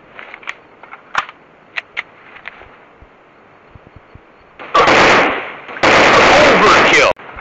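Gunfire in an FPS commando shooting video game: scattered sharp pops at first, then two dense, loud bursts of rapid automatic fire, each lasting over a second.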